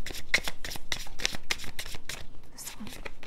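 Tarot cards being shuffled by hand: a quick run of crisp, papery riffling bursts, close and fairly loud, repeating steadily for a few seconds.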